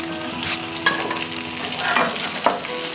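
Onions and tamarind sautéing and being stirred in a pan while making appalam chutney, giving a steady close sizzle with scraping stirs and a few sharper clinks of the spoon.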